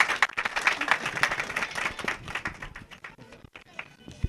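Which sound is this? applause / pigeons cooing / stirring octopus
applause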